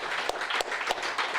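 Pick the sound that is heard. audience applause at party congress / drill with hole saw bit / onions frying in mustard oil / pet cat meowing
audience applause at party congress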